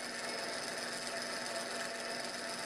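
A small gear motor run up to about 10 volts drives a hand-held 32-pitch aluminum spur gear, giving a steady, close, even whirring grind with faint rasping texture that holds without a break.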